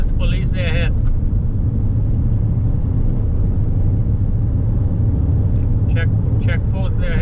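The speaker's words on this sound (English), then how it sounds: "We're driving in Guyana" Continuous loud engine and road rumble from a car driving in Berbice, Guyana, with brief bursts of talking over the drone.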